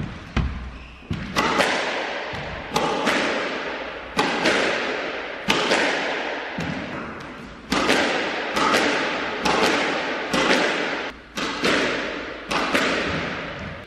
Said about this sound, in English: So we're gonna give this guy a shot, hit a few balls with it